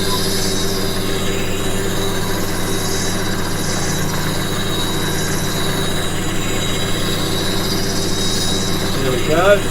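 A woodturning gouge being freshly sharpened gives a steady, continuous grinding whine with a rising squeal right at the end, close and loud throughout.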